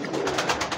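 A Sialkoti rooftop pigeon coos briefly and close by, a soft throaty burbling call with slight rhythmic pulses.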